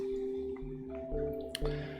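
Water dripping and trickling into a container in the video game Cube Escape: Paradox, soft repeated drips over a steady low tonal hum, no talking.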